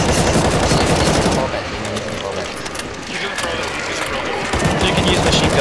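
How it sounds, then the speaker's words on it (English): Sustained automatic machine gun fire from a Counter-Strike: Global Offensive zombie escape match, a dense loud rattle running the whole stretch with brief dips, while players talk over it. "You can use machine gun now."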